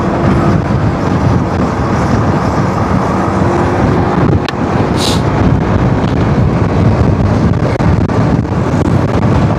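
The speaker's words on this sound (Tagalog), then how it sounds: "Lakas ang hangin ah." A strong wind blows outdoors as a loud, continuous roar of gusting air buffeting the microphone, steady across the whole stretch with a short break near the middle and no speech.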